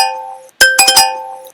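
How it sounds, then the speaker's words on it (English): A Java exam program's timeout alert sounds as a short series of bright, tonal electronic chimes: one sustained tone, a brief gap, then three quick ringing bursts that fade out. "If the time is running out, the alert sounds like this"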